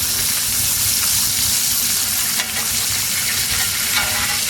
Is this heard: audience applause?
no